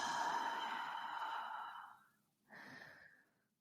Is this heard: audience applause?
no